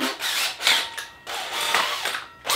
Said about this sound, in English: I've got a hole saw with my little Makita drill